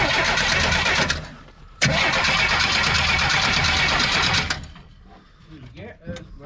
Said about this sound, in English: let's see if she'll fire and crank